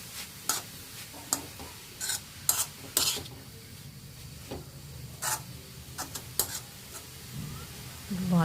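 Cabbage thoran stirred in a pan, with a spoon scraping and tapping in scattered bursts over a low steady sizzle, close by and moderately loud, with no talking.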